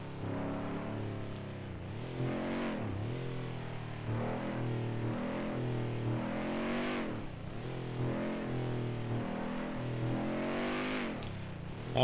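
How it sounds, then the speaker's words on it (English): Truck engine in a driving video game runs in steady repeated cycles of revving up and dropping back with gear shifts, loud and continuous, with no talk. "I'm enjoying my truck"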